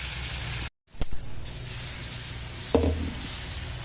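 Oats rava dosa batter hits a hot pan and sizzles, a steady hiss after a brief silence and a clatter, with a small burst of stirring noise near the end.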